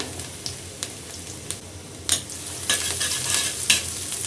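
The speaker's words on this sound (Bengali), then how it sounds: "পেঁয়াজটা একটু বাদামি রং করে ভেজে নেব" Chopped onion frying in a little oil in a pan, a continuous close sizzle with scattered stirring clinks and scrapes that grow a bit louder toward the end, with no talking.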